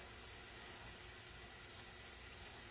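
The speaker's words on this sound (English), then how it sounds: "you want to sear these guys for about 3 minutes on each side" Filet mignon steaks coated in peppercorns sear in a hot pan, giving a steady, fairly quiet sizzling hiss that runs unbroken throughout.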